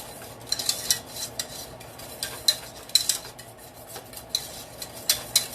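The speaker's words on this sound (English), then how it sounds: "Get the lumps out with the whisk." A whisk beats lumps out of a cheese sauce in a pot, giving irregular metallic scrapes and taps in quick bursts against a quiet background with no talking.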